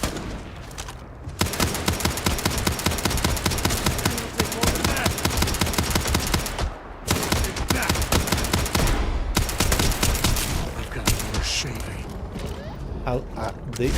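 Rapid bursts of automatic gunfire from firearms fitted with zoom scopes in the space game Starfield while raiding pirate structures, loud and nearly continuous with brief pauses, player voices talking over the shooting.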